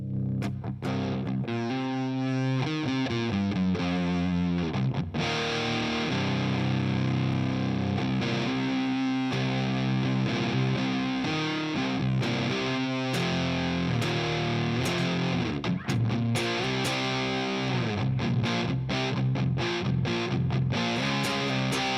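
Charvel electric guitar driven through a distorted amp, playing 70s- and 80s-style rock riffs and runs, loud, thick and continuous with chugging palm-muted bursts and sustained notes.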